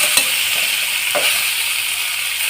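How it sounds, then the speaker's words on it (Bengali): Fish and eggplant pieces frying in a pan give a loud, steady sizzle, with a couple of brief stirring scrapes near the start. "আরও দু থেকে তিন মিনিট এইভাবে ভেজে নিলেই"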